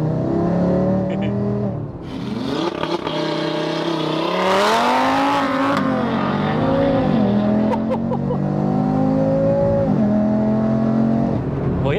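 A tuned 520 bhp Audi RS3 8Y with its five-cylinder engine revs hard and accelerates, the loud throaty note climbing and falling through several pulls with gear changes and crackles, close by and dominating.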